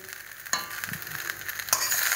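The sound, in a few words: frying rice with peas, cabbage and egg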